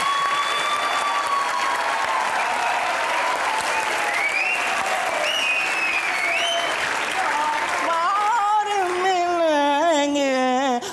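A talk-show studio audience claps loudly and steadily to welcome guest Bushra Ansari. The sustained applause runs under music and a voice throughout.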